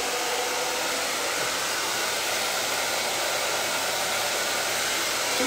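A hair dryer blowing on short pixie-cut hair, with a loud, steady whooshing roar close by that runs unbroken from start to finish and has no voices over it.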